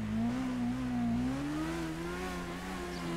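A motorcycle engine in GTA 5 drones with a steady, rising rev, its pitch climbing gradually as it speeds up, loud and continuous without any voices.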